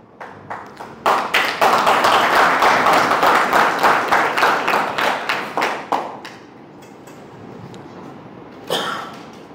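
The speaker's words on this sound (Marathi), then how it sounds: "ज्या एका व्यक्तीमुळे आज आपण इथे आहोत त्यांच्यासाठी जर इतक्या कमी टाळ्या वाजल्या असतील" Audience applause at a leadership training program speech, a burst of clapping rising quickly, holding strong for several seconds, then thinning into scattered claps and fading, with a brief late clap.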